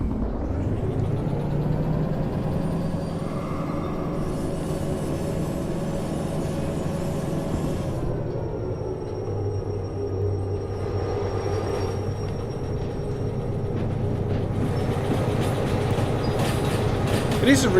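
Train wagons rumble steadily while being shunted in the railway game Derail Valley, with a continuous low mechanical drone and faint clatter throughout.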